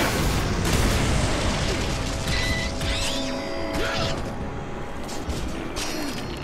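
A wooden cart set ablaze and exploding in God of War: Chains of Olympus, heard as a dense, continuous rumbling roar of fire and blast debris with brief metallic tones and mechanical clatter throughout, no talking.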